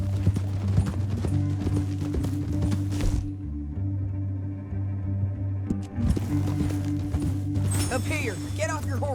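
Horse hooves clip-clop in Red Dead Redemption 2 as riders move through a canyon, the steady clopping set against a low droning game soundscape, with voices talking over parts of it.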